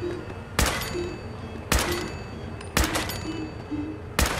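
Gunshots ring out in Fallout 4's Nuka-World, four loud, sharp single reports spaced roughly a second apart over a steady background hum.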